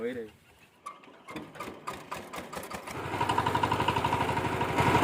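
A tractor in a Konkan village near Kudal, Maharashtra, is cranked with a makeshift fix, catching after a few irregular knocks into a fast, steady mechanical chatter that grows louder and stays close.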